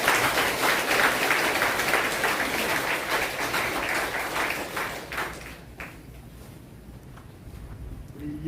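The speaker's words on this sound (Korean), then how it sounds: "우리 박수 한번 주시죠." A congregation at a Baptist church ordination service breaks into sustained clapping. It stays loud for about five seconds, then thins out and fades to scattered claps and room murmur.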